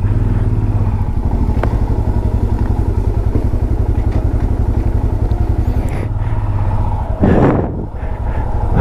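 A motorcycle engine idles at night on Killar road, a loud, steady, even chug that runs all the way through. A brief whooshing burst comes near the end.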